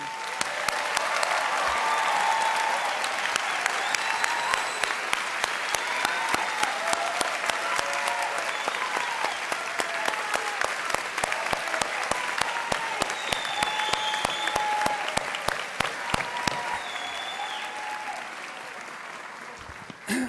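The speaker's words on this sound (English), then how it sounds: "let's have one great round of applause for the class of 2017" A graduation audience gives a long, sustained round of applause for the class of 2017, dense crowd clapping with sharp individual claps cutting through and faint voices mixed in, tapering slightly near the end.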